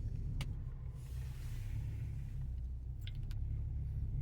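A 2020 VW Passat GTE creeps through parking maneuvers on its own under Park Assist, a faint low rumble of the car moving with a few light clicks and no talk.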